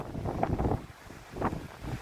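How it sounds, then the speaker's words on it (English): Gusty wind at an Atlantic Ocean beach in Wrightsville Beach, North Carolina, buffets the microphone in low rumbling bursts, rising and falling twice with no voices. "It's such a windy day."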